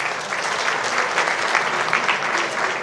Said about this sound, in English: A warm round of applause to Mr. Rishi Kapoor.